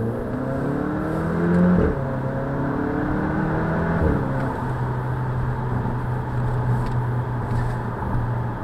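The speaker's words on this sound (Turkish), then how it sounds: "Koskoca araç kırmızıda geçiyor." A large vehicle drives through a red light at a city intersection, a loud, close engine drone with whirring tones that shift in pitch, heard alone with no talking.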